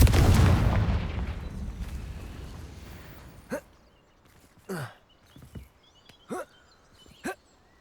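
In Hogwarts Legacy, a Confringo fire spell goes off as a loud explosive blast whose rumble slowly fades over several seconds, followed by a few brief, scattered softer sounds.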